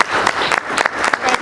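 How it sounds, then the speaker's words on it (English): A brief round of applause at a school board meeting, a small group clapping close by in uneven bursts over little more than a second. "I think we should give Mr. Carpenter a round of applause."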